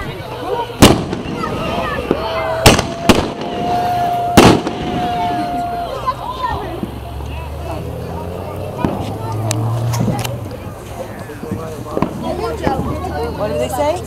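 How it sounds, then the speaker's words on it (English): Fourth of July fireworks pop and boom in sharp, separate blasts, several loud reports early and fainter ones later, with people talking and outdoor background noise between them. "Oh, they're shooting more."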